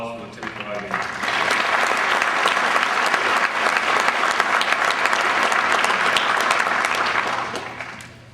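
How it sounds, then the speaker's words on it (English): Audience clapping for a lieutenant at an Army captains career course graduation ceremony, applause swelling in after a second, holding strong and full, then tapering off near the end. "Please join me in a round of applause for Lieutenant Kolodigan."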